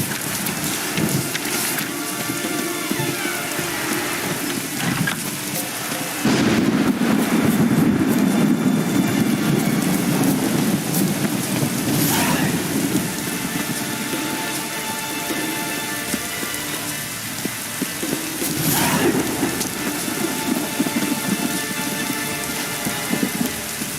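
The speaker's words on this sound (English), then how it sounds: "It's raining." Steady rain in the video game The Witcher 3: Wild Hunt, pouring down with a dense patter, swelling heavier midway, with low rumbling underneath and no voices.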